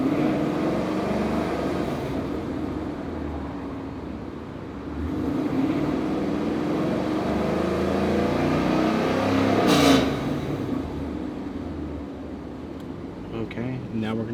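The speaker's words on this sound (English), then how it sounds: "then we will do a couple of revs for them" A car running on E85 fuel revs up, its engine note rising and swelling mid-clip before settling back to idle, heard beneath a steady hum and someone talking over it.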